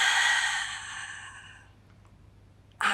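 A long, soft exhaled breath during a Pilates mat exercise, a breathy sigh fading out over about a second and a half, followed by quiet and a brief sound at the end.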